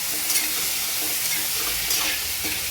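Steady sizzling and scraping as boiled chickpeas are stirred in a hot frying pan with tempering, a continuous close hiss with soft utensil scrapes.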